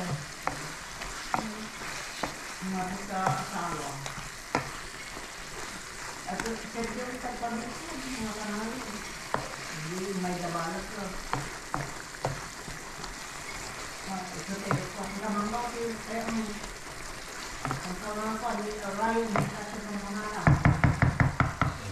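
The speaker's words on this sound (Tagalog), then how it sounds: "Yan po yung sarsyado natin. Sibu Filipino style, sibuyas, bawang luya, paminta, kamatis" Onion, garlic, ginger, pepper and tomato sauté in a pan for a Filipino-style sarsyado, with steady frying sizzle and stirring scrapes throughout; a voice talks over much of it, and sharper clatter comes near the end.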